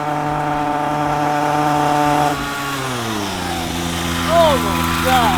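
A small 50cc Temu dirt bike motor revs steadily and loudly up close, its buzzing pitch sliding down and then climbing again, with brief voices breaking in near the end.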